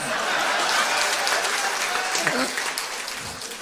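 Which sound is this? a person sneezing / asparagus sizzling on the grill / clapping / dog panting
clapping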